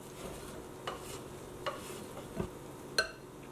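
Shrimp marinade with soy sauce and sesame oil being mixed in a bowl: faint, sparse taps and clinks of a utensil against the dish, a few sharp knocks spaced out over quiet background.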